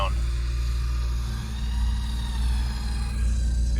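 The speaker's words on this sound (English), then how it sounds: "So he's spinning his tires so it goes sideways a bit better" A Jeep on an off-road trail spins its tires during a recovery, giving a continuous low engine drone and rumble at a fairly loud, steady level with no clear revving peaks.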